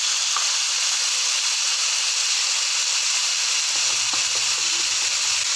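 Long beans fry with ginger and garlic in a hot pan, giving a steady, loud sizzling hiss that runs unbroken throughout, with a few faint clinks near the end.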